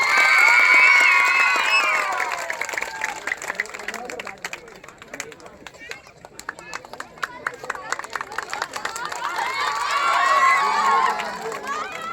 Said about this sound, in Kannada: ಬರಲಿ ಜೋರಾದ ಚಪ್ಪಾಳೆ